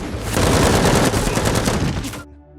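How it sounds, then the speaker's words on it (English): Dense, rapid gunfire crackles continuously for about two seconds, loud and close, with overlapping shots, then cuts off abruptly into quiet. "running through the woods, dodging gunfire"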